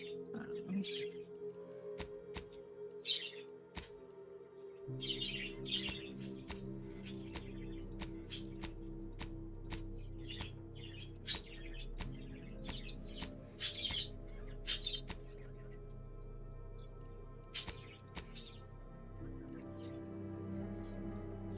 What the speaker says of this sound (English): Sorry about the birds in the background.